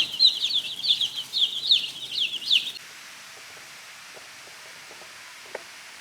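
Meat chickens clucking and calling in a short busy burst of repeated bird cries, fairly close, then fading into quiet background with a faint click near the end.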